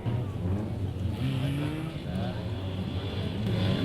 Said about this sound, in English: While Chaz and his competitors are flying around the circuit